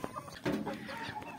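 Chickens cluck in a farm coop, several birds calling in short, overlapping bursts close by, with a louder cluster of clucks partway through and steady background hen chatter.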